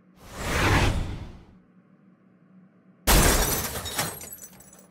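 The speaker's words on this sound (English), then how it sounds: "Yes, I smashed a treadmill here in Fitness Superstore." Treadmill being smashed inside a fitness equipment store, heard as two loud crashing bursts with a shattering, breaking quality, separated by a quieter stretch of low hum.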